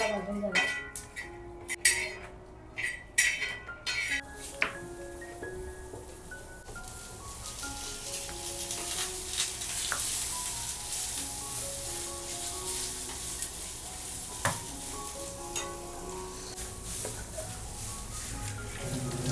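Steady sizzling of finely chopped dried coconut and onion roasting on a hot griddle with scraping stirs, after a few sharp clinks of utensils at the start; a voice talks over it.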